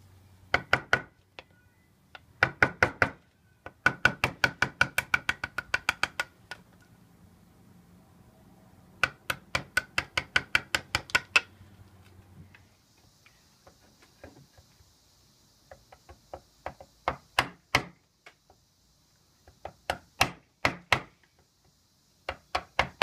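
A sharp chisel struck into wood while cutting a dovetail joint for a three-legged stool, heard as bursts of close, crisp knocks in quick rhythmic runs, separated by pauses and single taps.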